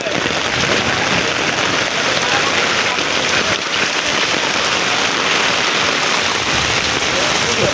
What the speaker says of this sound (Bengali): ভালো বৃষ্টি হচ্ছে এবং সাথে